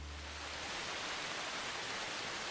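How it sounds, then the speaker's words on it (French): Steady broadband hiss of rain falling outdoors, continuous and even throughout, with a brief low hum at the very start and no voices. "Zut, il pleut."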